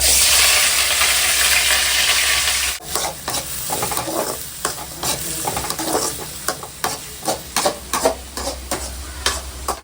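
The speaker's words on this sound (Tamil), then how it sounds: "வெங்காயம் நல்லா வதங்கிடுச்சு" Onions fry in a pan with a loud, steady sizzle at first, then quieter as a spatula stirs them in repeated rhythmic scrapes and knocks close by.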